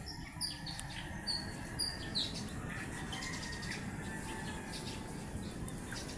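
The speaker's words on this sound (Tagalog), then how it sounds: "Parang nag-aawitan guys yung mga ibon." Several birds in a tree chirp and tweet in short, scattered calls over a soft, steady outdoor background hiss; fairly faint and unhurried.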